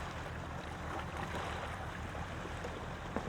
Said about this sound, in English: Right now I'm sitting on Kits Beach on a kind of a windy, sunny day